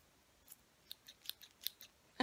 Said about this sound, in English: but these are scissors.